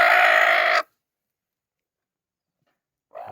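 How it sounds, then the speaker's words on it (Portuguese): A black Mura breed hen lets out a loud, brief cackling burst, followed by sudden silence and then the start of another call. "Olha que galinha top"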